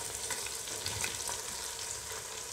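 Chicken, garlic, ginger and onions fry in a pan for shami kabab, a continuous soft crackling sizzle heard close and alone, fairly quiet.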